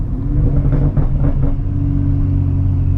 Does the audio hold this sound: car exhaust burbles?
yes